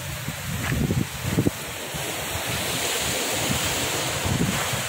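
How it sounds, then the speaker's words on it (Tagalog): Steady sea wind blows across the shore at Dipolog Boulevard in the Philippines, with a constant roar of surf underneath, buffeting the microphone in occasional gusts. No one speaks. "Napakasarap ng hangin dito."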